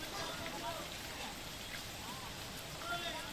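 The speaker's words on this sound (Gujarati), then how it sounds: "નવસારીમાં ધોધમાર વરસાદ, 6 ઇંચ વરસાદમાં નવસારી જળબંબાકાર." Heavy downpour in Navsari, South Gujarat, with waterlogged streets: a dense, steady hiss of rain falling on surfaces, fairly faint and continuous throughout.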